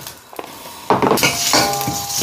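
Onion, garlic and ginger sizzle as they hit hot cooking oil in a pan for a creamy chicken curry, a sudden loud hiss rising after a brief clink of utensils and continuing steadily.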